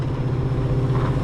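Chevrolet Camaro SS engine pulling under acceleration heard from inside the cabin, a steady low droning rumble that holds loud and continuous without a break.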